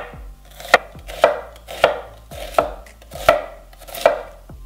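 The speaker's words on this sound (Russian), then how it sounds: "Нам понадобится одна луковица. И нарежем просто соломку." A knife chops an onion into thin strips on a board, six crisp, evenly spaced strokes, close and loud with nothing else heard.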